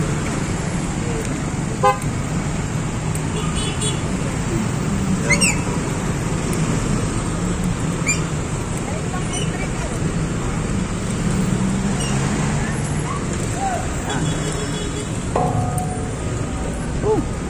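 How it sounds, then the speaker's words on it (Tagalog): Dense, heavy road traffic in the Philippines near Libis after a sand-laden truck accident, with a constant loud engine rumble and scattered short car horn toots throughout, while a person talks over it. "Grabe ang traffic."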